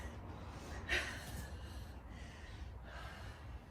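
Heavy breaths during a Kundalini yoga breathing practice in a warm room: one sharp, forceful exhale about a second in, then softer airy breaths under low background rumble.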